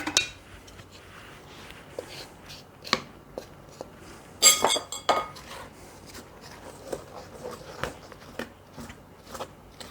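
Spoon scraping and clinking against a bowl while stirring chocolate chip cookie dough, with irregular knocks and rattles, one louder burst of clatter midway, fairly faint and close.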